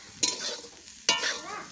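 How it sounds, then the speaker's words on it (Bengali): Soybean chunks frying in hot oil in a wok, with two sharp stirring scrapes that flare into a close, crackling sizzle before settling back to a softer hiss. "সয়াবিনগুলো আমার ভাজা হয়ে এসছে"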